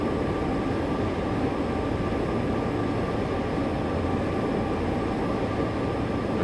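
Diesel locomotive engine spooling up in Train Sim World 6 on the Cheyenne to Laramie line, a steady droning rumble and whine holding at an even level throughout, heard alone.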